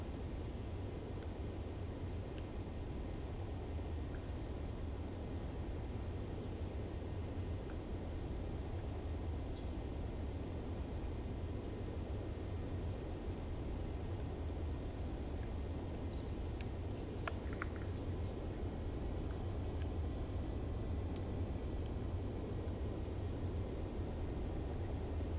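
Fighter jet engine in Ace Combat 7 during a landing approach, a steady broadband roar with a low rumble that holds constant throughout without breaks, no voices present.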